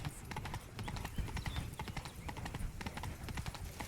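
Horse hooves clip-clop steadily in the video game Witcher 3, a brisk, continuous rhythm of close, fairly loud hoofbeats with no talk.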